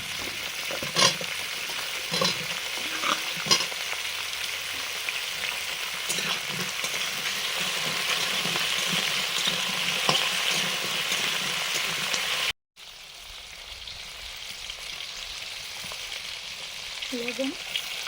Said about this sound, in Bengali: পেঁয়াজটা হালকা ভাজা হয়েছে, এই সময় আমি কচুগুলো দিয়ে দেবো। কচুগুলোও ভাজা হয়ে যাবে